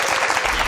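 Audience applause during a science lecture on nano toxicology, a brief burst of dense, even clapping from a seated crowd.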